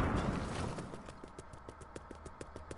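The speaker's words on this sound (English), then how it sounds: "It sounds like footsteps." Footsteps thud in a steady, even rhythm in a video game, growing clearer after a louder opening wash of noise and staying moderately close throughout.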